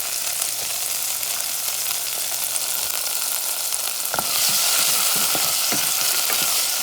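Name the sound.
potatoes frying in pan for Cuban black beans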